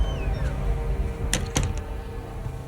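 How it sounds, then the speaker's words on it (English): A door slams shut in the F1 25 video game, two quick sharp thuds over a steady room hum, with no talking. "Shut the door, Cal."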